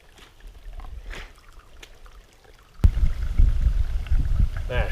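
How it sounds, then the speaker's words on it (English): Mountain stream at Mt Rogers in the Grayson Highlands pouring off a rock, a steady rushing flow that grows louder and closer midway, with faint voices earlier. "Here's our stream, and that right there is looking pretty good."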